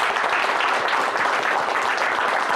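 A television studio audience in Turkey applauds steadily, a thick, even wash of clapping hands that stays loud and unbroken from start to finish.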